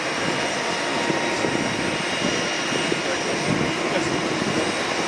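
Blue Angels Navy jets performing at the SUN 'n FUN air show: a continuous, loud, broadband jet roar fills the whole stretch, a steady distant rumble with no clear pass-by peak.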